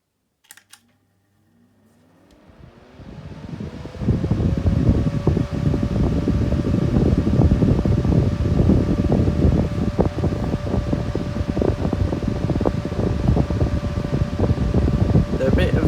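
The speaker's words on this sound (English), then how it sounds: "They're a bit of a noisy fan. They are quite loud, but they are really, really good and powerful." A 1970s Pifco Deluxe 6-inch desk fan is switched on and spins up over a few seconds, then runs loud and steady with a constant motor hum and rushing, buffeting airflow.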